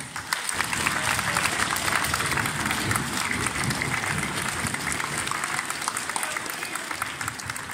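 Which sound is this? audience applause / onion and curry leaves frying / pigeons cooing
audience applause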